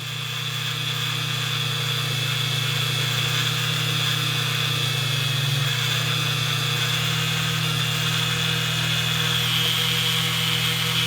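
A rotary tool polishing Glock trigger parts with polishing compound gives a steady, loud, high motor whine with a constant hum, running continuously at an even speed for the whole stretch.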